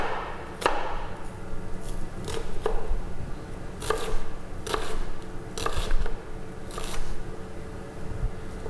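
A kitchen knife chops carrots and other vegetables on a board for an aromatic garnish. Sharp, separate cuts land at irregular intervals over a low background hum, with no voices.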